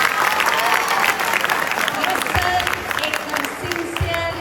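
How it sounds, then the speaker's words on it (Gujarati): Audience applause at a community felicitation event, a sustained burst of clapping from a crowd filling the room, loud and continuous with some voices mixed in. "તાળીઓનો ગગડાટ કરો"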